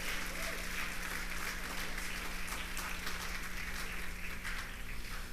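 A church congregation claps during a worship service, a dense, sustained wash of applause at a moderate distance, continuous for the whole stretch.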